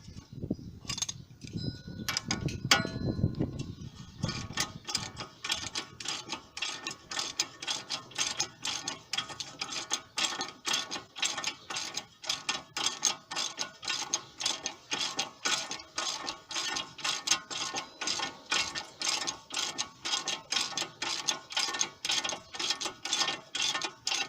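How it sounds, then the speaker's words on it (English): A ratchet tightens the outer tie rod parts on a 2011 Dodge Challenger, a brief rougher handling noise first, then a long run of fast, even clicks, close and steady. "And we're going to tighten all this back up."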